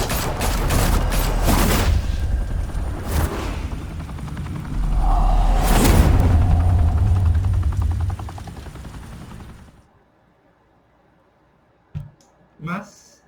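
Gunfire in the Batman Telltale Series video game: dense bursts of shots and rumbling action for about ten seconds over a voice, then near silence broken by two brief thuds.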